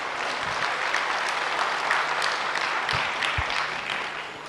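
A hall audience at a talk on memory power breaks into applause, a thick wash of many hands clapping steadily, loud and even before easing slightly at the end.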